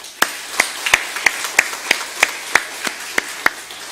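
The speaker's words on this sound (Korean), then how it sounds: "다시 한번 격려하는 박수 한번 하겠습니다" Sharp, evenly spaced claps ring out in church, about eleven crisp beats in a steady rhythm, close and distinct against a quiet background.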